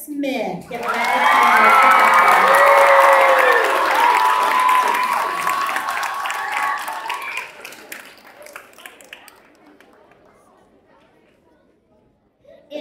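Loud applause and cheering swell from a talent show crowd, with children shouting and whooping over dense clapping, then fade to scattered claps and chatter near the end.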